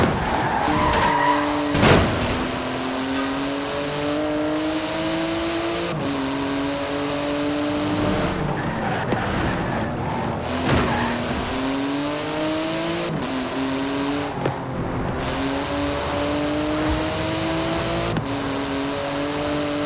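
Car racing and skidding in the video game Forza Horizon 4, engine revving through rising gear changes with sustained tyre screech, loud and continuous across repeated shifts.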